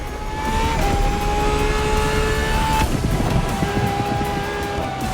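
A Ferrari LaFerrari hybrid, petrol and electric together, revs hard in the racing game The Crew Motorfest. The engine note is loud and sustained, with pitch stepping between gears and a brief squeal of tires.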